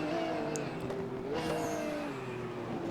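Race car engines in the Raceroom racing game drone steadily with rising and falling pitch as gears shift, a continuous loud motor tone filling the whole stretch with brief higher whines.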